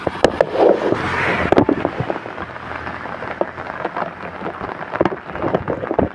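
Rain falling during heavy storms and flooding in Italy, a patter of drops with sharp scattered taps and splashes, fairly close and irregular, with no one talking.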